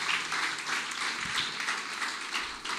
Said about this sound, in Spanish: le da una fuerte ofrenda de aplauso al Señor